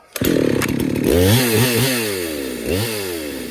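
A chainsaw on a muddy logging job starts up and revs in several sharp rising and falling bursts to throw sawdust out of the sprocket, loud and close, then settles toward a rougher idle.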